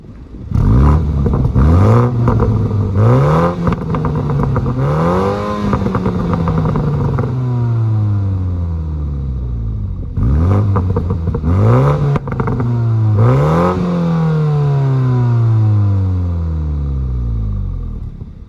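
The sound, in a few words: sports car exhaust note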